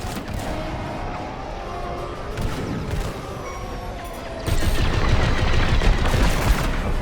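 Dense, continuous blaster fire rattles through a Star Wars Squadrons space dogfight, layered over an engine roar, and grows louder and heavier about two-thirds of the way through.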